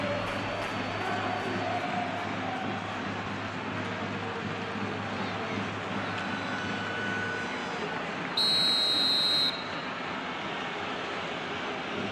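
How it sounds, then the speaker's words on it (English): A referee's whistle for offside in PES 2021 shrills once for about a second, bright and sustained above steady stadium crowd noise. "And the whistle's gone, presumably for offside."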